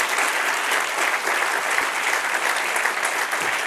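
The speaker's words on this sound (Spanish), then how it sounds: "Denle un aplauso al que vive, que lucha" Steady, dense applause from a church congregation during a sermon, close and continuous for a few seconds with no voices over it.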